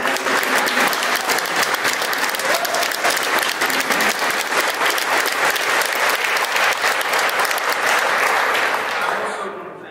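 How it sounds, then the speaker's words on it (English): An audience at a fiber broadband announcement event for Madison and Greene counties breaks into dense, loud applause. The clapping holds steady for about nine seconds, then fades at the end. "So please give them a round of applause."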